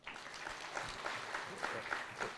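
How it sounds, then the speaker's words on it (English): Applause from an audience at a speech on Kenya's international standing, faint and steady broadband clapping with no voice over it. "Don't be shy to clap, because it's the truth."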